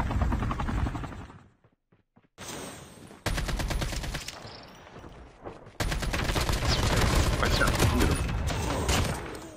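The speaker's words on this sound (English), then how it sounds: "We can't stay on this chopper." Helicopter rotor chop in a Call of Duty Mobile match, thudding loudly under bursts of gunfire, with the game's audio cutting out briefly twice before the chopper noise returns.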